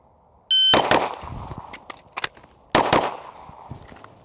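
Pistol shots fired during a fast reload drill on a range: two sharp, loud reports spaced about two seconds apart, each followed by a ringing clang, with quieter clicks and handling noise of the magazine change in between.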